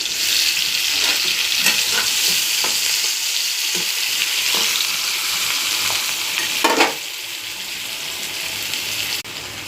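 Onions and green chillies fry in a pan with a loud, steady sizzling hiss close by. Occasional stirring knocks break it up, and a louder scrape comes near the end.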